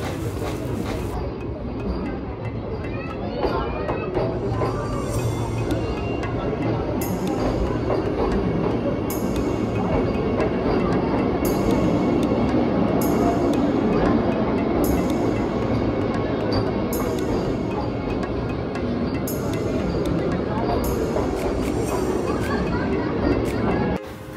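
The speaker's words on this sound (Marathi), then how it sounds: "आणि इथे ट्रेन आलेली आहे" A train rumbles in at a busy platform, a continuous heavy roar with hissing bursts, while people chatter in the background.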